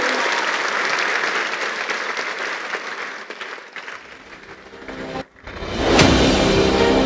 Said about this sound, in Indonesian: kita sambut dengan tepuk tangan yang meriah, Profesor Muhammad Mahfud MD